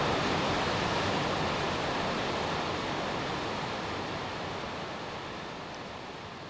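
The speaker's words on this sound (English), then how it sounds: "the river floods the canyon and spills over the rocky cliffs, creating a spectacular waterfall" A river spills over rocky cliffs as a waterfall in a Montana canyon, a constant broadband rushing roar heard alone, gradually fading slightly in level.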